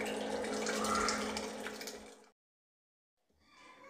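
Water splashes and pours steadily into an electric water heater for about two seconds, then stops into silence before faint handling noise returns.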